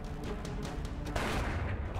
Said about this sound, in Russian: ну, тогда ты лови еще и пистолетный выстрел.